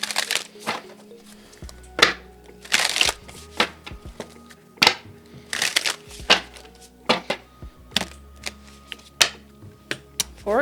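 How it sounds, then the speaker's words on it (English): Tarot cards are shuffled by hand in sharp irregular bursts of riffling and slapping, close and clear, with brief pauses between handfuls and no talking. "let's go ahead and pull some cards for your person"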